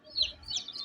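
Soft clucking and chirpy calls from chickens, a couple of brief bursts close by, fairly quiet.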